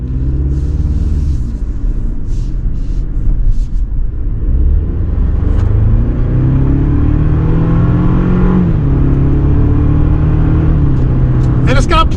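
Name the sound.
Toyota Tacoma SR5 turbo four engine accelerating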